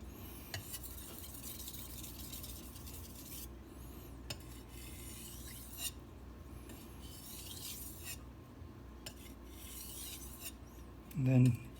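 A carbon steel Santoku knife is sharpened with quiet, repeated rasping strokes on a stone, soft rubbing passes at an uneven rhythm, ending in a louder handling clunk.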